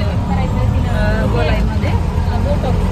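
Steady road noise from inside an auto-rickshaw moving through traffic in Latur, with engine rumble and passing vehicles continuous and close, and a murmur of voices in the background.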